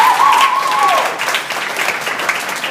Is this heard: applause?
yes